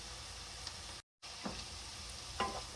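Onions sweating for chicken meatballs give a faint, soft, continuous sizzle in a pan, with a couple of light stirring scrapes and a brief dropout of silence.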